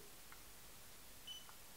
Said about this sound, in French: un petit bip pour nous indiquer qu'elle fonctionne.